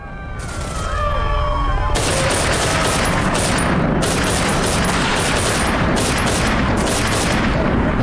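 Gunfire in the Velvet Assassin video game: a dense, loud barrage of rapid shots and booms rolling continuously after a brief quieter opening with electronic tones.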